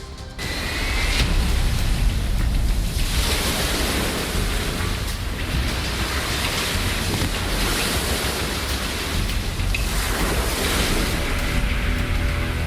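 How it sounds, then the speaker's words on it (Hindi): Sea waves surge and crash under strong, gusting wind on the coast ahead of Cyclone Biparjoy, a loud continuous roar with wind buffeting the microphone and no voices. "तेज हवाएं चल रही हैं और ये लहरें बहुत पीछे की तरफ थी"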